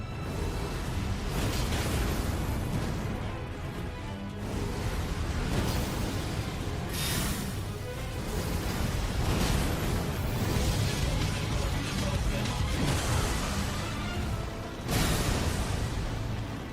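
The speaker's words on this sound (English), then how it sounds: "Another explosion." Explosions in the video game Elden Ring arrive as a run of heavy bursts and booms over a dense, noisy battle, with sharper blasts standing out at intervals and no voices in between.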